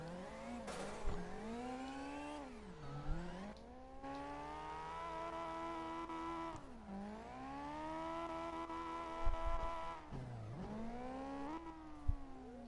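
A Mitsubishi Eclipse engine in the CarX Drift Racing video game revs and winds up and down repeatedly, a harmonic whine rising and dipping through gear changes at moderate volume with brief tire squeal.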